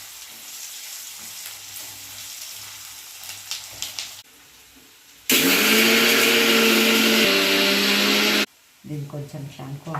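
Mixer grinder coarsely grinding ingredients for an okra fry, a loud steady whirring run of about three seconds between quieter stretches, with someone talking before and after.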